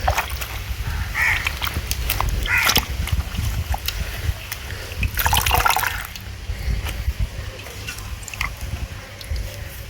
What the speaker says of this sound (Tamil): இந்த கீரையை அலசி சூப் வைக்கிறது.